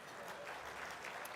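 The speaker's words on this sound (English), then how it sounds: "So a round of applause." Applause from lunch guests at a mining club luncheon, a faint, steady patter of many hands lasting a moment with no voices over it.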